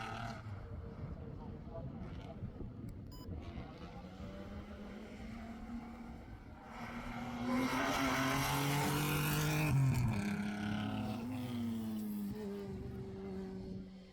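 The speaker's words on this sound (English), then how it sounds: "Charlie Fraser's Spire GT3 sounded and smelt amazing as Charlie went a speedy 7th and 5th overall" A Spire GT3 race car at the Scottish Sprint Championship in Golspie roars past, its engine note swelling loudly through the middle of the clip and pitching down as it fades, over a steady background rumble.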